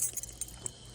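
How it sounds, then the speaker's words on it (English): Car keys jangling and clinking as they are dug out at night beside a 1967 Buick Gran Sport, a short burst of small metallic chinks close by, fading to a quieter rattle. "See if I can dig these keys out."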